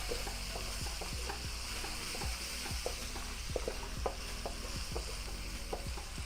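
Fresh garlic sizzles in a pan while being cooked for an egg roll filling, a steady loud frying hiss broken by regular light taps and scrapes of a utensil.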